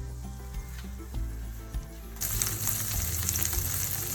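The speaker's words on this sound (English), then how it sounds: "So this is how it should be sizzling when you put it on medium heat." A burger patty sizzles steadily in a pan over medium heat, a close, continuous crackling fry that grows noticeably louder and brighter about halfway through.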